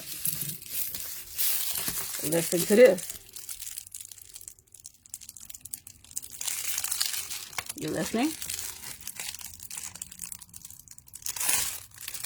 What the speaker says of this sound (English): I want you to hear that sound of that adhesive